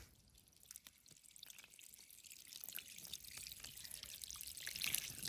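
Faint, scattered drips and a light trickle of water fall irregularly from a pipe, growing slightly busier toward the end, with no talking.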